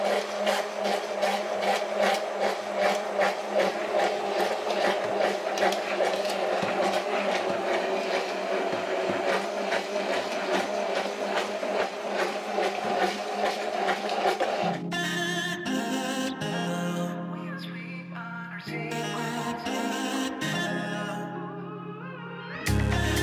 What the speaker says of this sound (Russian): Так, подключаем миксер. Добавляем белок и начинаем взбивать.